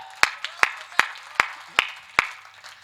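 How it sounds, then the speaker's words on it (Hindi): Audience clapping at a Hindi kavi sammelan (poetry gathering) at the Kathumar Gangaur fair, 2025: about six sharp, separate claps at a steady pace, close and moderately loud, with no dense applause around them. "तालियां बजाओ।"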